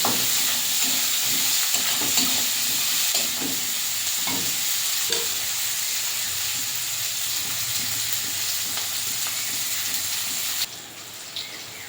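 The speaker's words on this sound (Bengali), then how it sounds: "পেঁয়াজটা ভালো করে ভাজা ভাজা করে নিয়েছে এই যে পেঁয়াজ থেকে তেল ছেড়ে গেছে" Garlic and onion fry together in oil in a village kitchen pot, a dense, even hiss with scattered stirring clicks early on, holding steady before dropping slightly near the end, with no voices.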